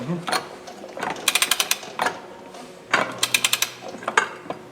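A ratchet wrench tightens an axle part on a Ponsse Buffalo forwarder during an axle seal teardown, giving rapid bursts of metallic clicks in short repeated strokes with low voices and workshop noise beneath.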